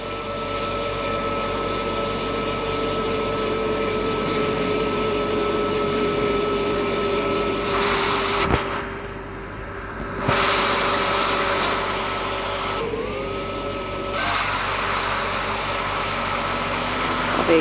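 Airplane landing in the Roblox flight simulator video game, heard as a steady, loud synthetic jet-engine drone with tonal whine that dips and swells midway as the engines change, with no talking.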